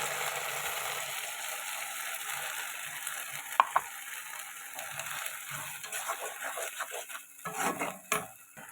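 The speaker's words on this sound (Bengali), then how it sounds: "পেঁয়াজটা লাল লাল করে আমি একটু ভেজে নেব" Onions and a spice paste of cumin, coriander, dried chilli, pepper and garlic frying in a pan, with steady sizzling and stirring clatter, close and alone.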